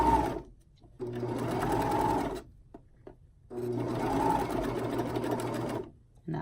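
A serger stitches bikini bottoms sewn into a loop, its knife trimming the edge. The machine runs close and loud in two long bursts, separated by short pauses with quiet handling between them.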